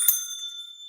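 A single bright ding from a hotel front-desk bell, struck once with a sharp metallic attack and a clear ringing tone that fades over about a second in a quiet room.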